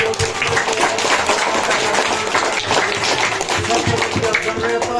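A crowd claps continuously for a scholarship winner at a school award ceremony, a full, even wash of applause lasting throughout with voices faintly beneath it.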